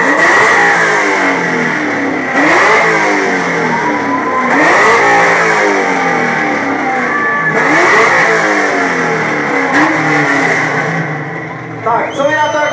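A Pontiac GTO V8 revs hard several times in a row, each rise and fall of the engine loud and close, and a few voices are heard underneath. It ends with a brief drop in level and some clatter.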